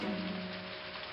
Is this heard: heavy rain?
yes